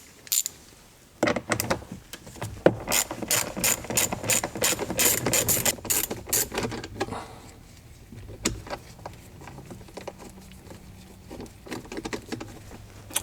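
A ratchet clicks in rapid bursts backing out two 7mm screws on a Gen2 Ford Raptor's cabin air filter housing, crisp and close, slowing to sparser clicks later on.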